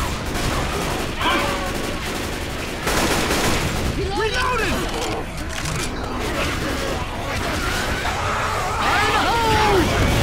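Sustained gunfire in Left 4 Dead 2 during a versus match, dense bursts rattling throughout while players talk over it.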